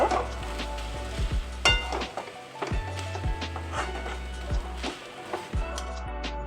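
Coconut filling sweetened with jaggery cooks in a pan, stirred steadily. Repeated scraping strokes of a spoon against the pan sound close and fairly loud over a soft sizzle, with no talking.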